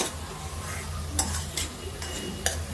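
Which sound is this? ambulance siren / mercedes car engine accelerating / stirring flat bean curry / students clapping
stirring flat bean curry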